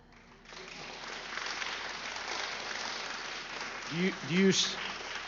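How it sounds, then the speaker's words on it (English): Applause in a hearing room, a steady broad clatter of many hands clapping throughout, with a few voices rising briefly over it near the end. "did you hear the applause in this room?"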